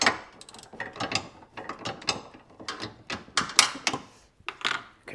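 Wrench ratcheting out a headlight motor bolt on a 1998-2002 Trans Am F-body, a run of quick, close, uneven clicking bursts with brief pauses between strokes.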